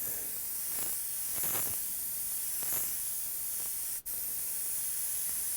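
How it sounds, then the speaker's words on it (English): A spray gun hisses out candy red paint in a steady, close, continuous spray with a few swelling passes and one brief cutoff, no speech. "I'm going to go ahead and spray this on here"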